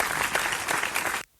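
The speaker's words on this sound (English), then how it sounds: "Can all y'all clap a little bit slower?" An audience claps in a dense, steady burst of applause that stops abruptly after about a second.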